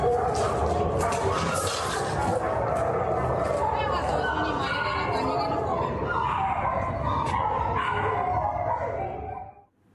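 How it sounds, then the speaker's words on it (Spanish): A chaotic chorus of dozens of dogs kept at one house barks, yips and whimpers continuously and loudly, layered over one another until it cuts off at the end. "¿Escucharon la manera en la que ladran?"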